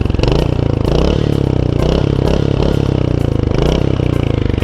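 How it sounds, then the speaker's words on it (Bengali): Royal Enfield Hunter 350 single-cylinder engine idling through its short silencer, a loud, close, steady thumping exhaust beat with a bassy rhythmic pulse, heard alone. "ইঞ্জিন সাউন্ড, সেটা আমি তোমাদেরকে একটু শুনিয়ে দিই"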